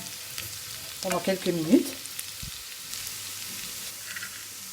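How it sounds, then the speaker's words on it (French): Shallots fry in melted butter in a pan over high heat, a steady soft sizzle running beneath a short stretch of speech. "Je fais revenir mes petites échalotes à feu vif"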